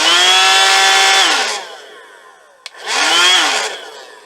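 Budget mini vacuum cleaner used as a blower to blow oats, a loud whining motor that winds down, a sharp click, then whirs back up again close by.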